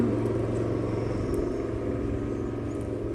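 A motorcycle of about 98 horsepower passing on a road near a wooded cemetery, a low steady engine rumble at moderate distance, fairly even and unbroken.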